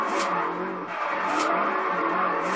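In the racing game Forza Horizon 2, a car drifts with a continuous loud tire squeal over a steady engine roar, the screech swelling in pulses as it slides.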